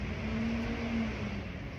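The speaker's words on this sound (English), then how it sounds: "There's a big truck coming." A big truck passes by outside, a steady low engine drone and road rumble holding at moderate loudness with a faint tonal whine, no voices over it.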